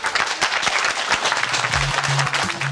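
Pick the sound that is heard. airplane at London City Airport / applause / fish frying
applause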